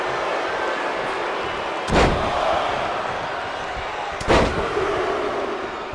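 Two heavy body-slam impacts from an elbow drop in the wrestling video game WWE 2K25, each a loud booming thud over a constant roaring arena crowd, spaced about two seconds apart.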